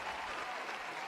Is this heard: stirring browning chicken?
no